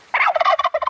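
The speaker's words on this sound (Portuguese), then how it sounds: "acordamos no campo, tem um peru" A turkey at a countryside campsite lets out a single close, loud, rapid gobble lasting under a second, with no other sound around it.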